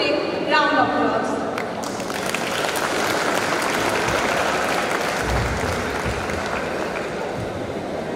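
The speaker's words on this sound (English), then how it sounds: "I specially request the students to give themselves a loud and enthusiastic round of applause" Students at a college event give themselves a loud, sustained round of applause. A voice is briefly heard at the start as the steady clapping takes over.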